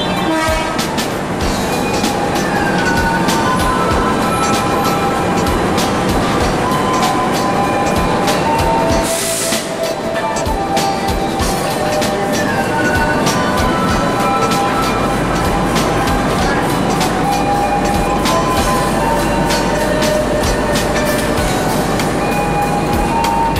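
The Argo Bromo Anggrek passenger train in Jakarta rumbles along at close range with rhythmic wheel clatter and rattling carriages, loud and continuous, a brief whoosh in the middle.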